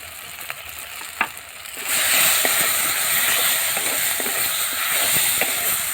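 Spice paste of turmeric, chilli powder and a little sugar fries in a pan, first with a few soft crackles, then a loud, steady sizzle from about two seconds on, broken by scattered pops and stirring scrapes.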